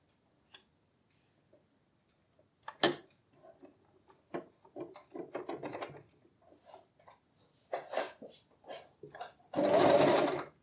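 Scattered ticks and handling clicks lead into a short, close burst of a sewing machine stitching a tote bag seam about a centimetre from the edge, its rapid whir cutting off after under a second.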